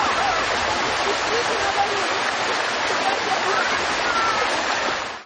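Turbulent river water rushes over rocky banks in a park at Korsun, a loud, continuous broadband roar heard close up while a voice speaks over it.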